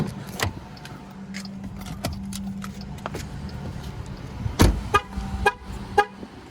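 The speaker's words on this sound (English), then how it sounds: "Chimed the horn a few times to let you know that you do have the key." A 2022 Jeep Grand Cherokee L Altitude 4X4 horn gives a few short chirps amid key jangling and clicks, close by, signalling the key is inside. A low engine hum sits underneath, and no one speaks.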